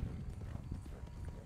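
Horse hooves clip-clop steadily in a Southern outdoor hunting video game, a continuous close, moderately loud rhythm of hoofbeats with faint background noise.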